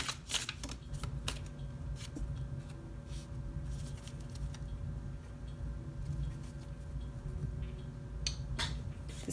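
A deck of Wild Unknown Animal Spirit oracle cards is shuffled close up, soft crisp riffles and flutters in short bursts over a quiet background, with a final flurry near the end.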